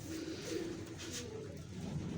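Pigeons coo softly in a storm of rain, with low, rolling calls repeating over a steady hiss of rainfall, fairly faint and distant, with no talk.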